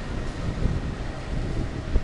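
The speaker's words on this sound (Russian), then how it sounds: "Ветер еще сильный," Strong coastal wind at Cape Tarkhankut in Crimea buffets the microphone in loud, uneven low rumbling gusts, with a faint wash of sea or boat noise underneath and no voices.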